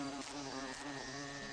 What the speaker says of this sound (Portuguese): as abelhas sempre começam a circular na base delas